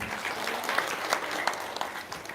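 Audience at an Indonesian religious gathering gives a short burst of fairly close clapping, dense and even, with a few sharper claps poking out.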